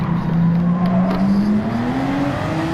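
A racing car engine in Gran Turismo 7 drones steadily and loud, its pitch climbing smoothly as it accelerates through the gears, close and continuous throughout.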